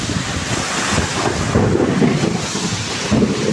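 Heavy rain pouring during a typhoon, a dense continuous roar with gusting wind buffeting the microphone, loud and steady throughout with no talk.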